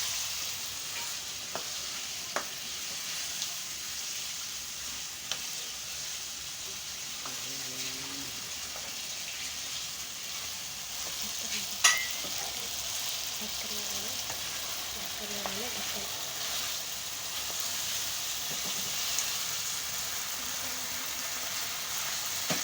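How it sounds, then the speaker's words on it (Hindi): Potatoes frying in a pan for a potato and egg curry, a steady hiss of sizzling oil with occasional scrapes and taps of a spoon stirring, brief faint voices in the background. "आलू को भून लेना अच्छे तरीके से।"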